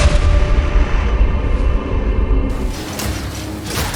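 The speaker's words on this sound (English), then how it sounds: "The Mercenary wields a crossbow that can be loaded with different ammo types" A Mercenary firing a crossbow loaded with ammo in the Path of Exile 2 video game, loud, punchy booming shots with a mechanical edge, close and dense, easing into a quieter tail after a few seconds.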